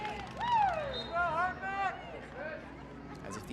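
Crowd shouting "Go Hartman" at a sports match, rising voices calling out in a few loud bursts over a murmuring crowd.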